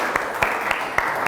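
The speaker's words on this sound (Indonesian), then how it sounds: "tepuk tangan untuk kita semua." A group claps hands in an ice-breaking session, sharp bursts landing at a loose, steady pace over a broad hiss of room sound, fairly loud and close, with no talking over it.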